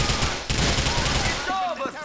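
Rapid automatic gunfire in GTA IV, a dense run of sharp shots through the first part, then it stops, leaving quieter game sounds and faint whistling tones.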